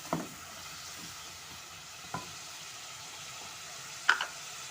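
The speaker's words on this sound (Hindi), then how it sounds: "अब हम इसकी अच्छी तरह से इसमें भुनाई करेंगे।" Koftas fry in masala in a pan, a faint low sizzle underneath with a few soft spoon knocks and stirring scrapes spaced apart, quiet and close, without talk.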